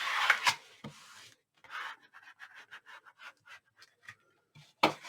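Cardstock is burnished down onto a 10 x 10 album page with quick, soft scratchy rubbing strokes, a run of short close scrapes between a few louder handling bumps, with no talking.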